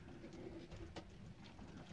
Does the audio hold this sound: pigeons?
yes